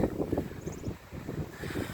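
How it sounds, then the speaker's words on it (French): Steady wind gusting through trees along a hiking trail on the Pilon de Saint Clément, a close, rough rushing with buffeting surges against the microphone and no voices. "Avec un bon petit vent. Les arbres qui font du bruit."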